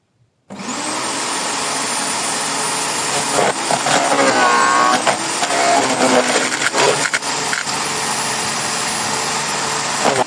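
A garden branch shredder (wood chipper) starts up and runs with a loud, steady motor whine that holds for the whole stretch after a brief silent opening, with faint crunching variations partway through.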